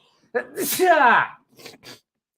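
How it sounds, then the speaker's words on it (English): A single close sneeze from a man, with a rising inhale leading into the burst, followed by a couple of faint breaths afterward. "I'm going to sneeze."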